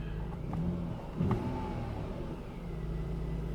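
A Mercedes C300 engine, running rough, pulls away with a rising rev and a brief surge, then settles into a steady mid-pitched rumble nearby, with no voices.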